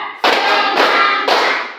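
A classroom of students claps in counted rhythm, three loud bursts of many hands striking together in quick succession, each sharp onset followed by a short ringing decay.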